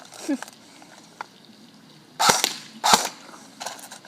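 Lancer Tactical M4 RIS CQC airsoft rifle firing single shots outdoors at close range, a few sharp snapping cracks spaced apart, the loudest two about half a second apart, over quiet background.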